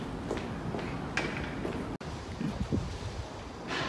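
Wind blowing outdoors on a cold, sunny day, a steady close rushing buffet against the microphone with brief gusts and scuffs.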